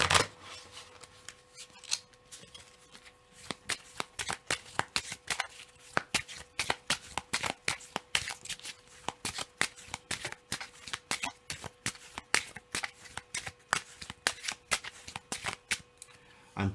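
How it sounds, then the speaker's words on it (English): Leg cards and points cards shuffled together for a card game, a long run of crisp riffling bursts, many quick close slaps and flutters in steady repeated rhythm with faint room background. "now I'm going to shuffle in the leg cards with the remaining points cards"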